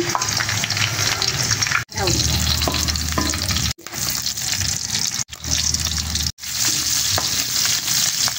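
Garlic and onion sauté in a pan for pork steak, a loud continuous sizzle and hiss with spatula stirring, close up, broken by a few abrupt cuts where the sound drops out briefly.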